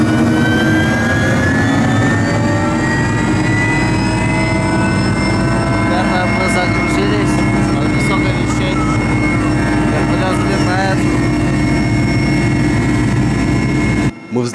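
Aircraft engine during takeoff and flight over the Komi-Parma region, a loud, unbroken droning roar with steady humming tones throughout, heard close from on board and cutting off abruptly at the end.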